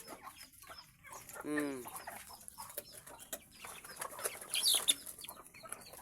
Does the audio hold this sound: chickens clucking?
yes